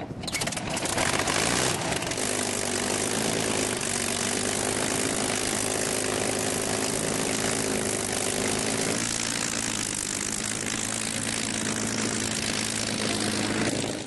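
A vintage propeller aircraft drones steadily in flight after taking off from Duxford, a dense, continuous engine roar with a low buzzing hum that shifts pitch slightly partway through, loud and unbroken throughout, with no talk.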